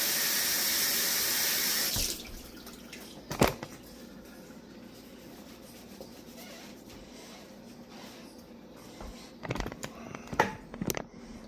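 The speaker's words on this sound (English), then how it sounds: "Get my hands rinsed off right quick." Tap water gushes loudly into a sink for about two seconds while hands are rinsed, then shuts off, leaving a quiet room broken by a few sharp clatters and knocks.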